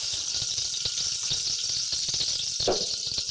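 Pepper frying in oil in a pan for tamarind pepper sauce, a continuous bright sizzle close up with faint crackles and a brief stir near the end, no voices.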